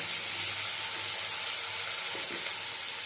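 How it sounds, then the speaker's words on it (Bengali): Chopped carrots frying in a pan with drumstick flowers for a Bengali chorchori, giving a steady loud sizzle as they are stirred, close and continuous with no talking. "গাজরটা দিয়েও নেড়ে চেড়ে নিয়ে"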